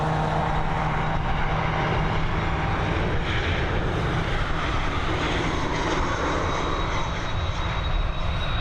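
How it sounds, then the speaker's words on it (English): Ryanair airliner landing at Dublin Airport in its final stages of descent, with a steady, loud jet engine roar that carries unbroken and without talk over it. "we do not want to miss this landing, the final stages of descent"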